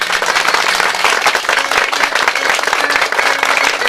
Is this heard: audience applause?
yes